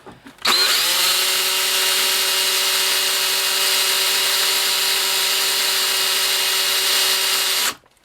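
A power drill bores out the rivets on a die-cast Norscot Cat 365BL excavator model, one loud, steady high whine that starts abruptly and runs unbroken for about seven seconds before stopping, with no talking.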